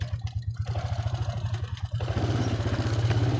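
A Honda Foreman 400 ATV engine chugs in a steady, close, pulsing rhythm as it is shifted down through the gears, growing slightly louder and rougher in its second half, with no talking.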